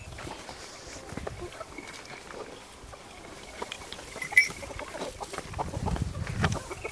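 Faint, sporadic clucking of a weak, sickly hen close by, with light rustling and shuffling around it; no talking.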